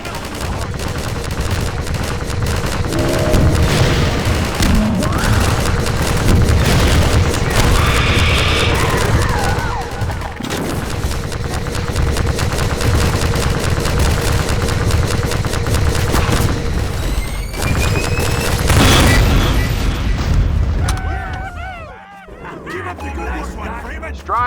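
Sustained gunfire and booming explosions from a combat firefight in Half-Life 2: Episode 2, loud and dense throughout with battle chatter and voices mixed in, easing near the end.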